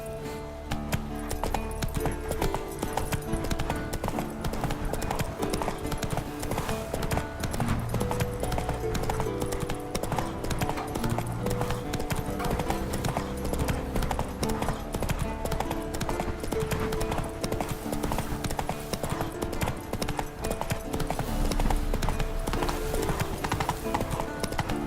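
A horse gallops in The Witcher 3 video game, hooves clip-clopping in a rapid, steady rhythm that runs nonstop at moderate volume beneath a dense layer of game sound.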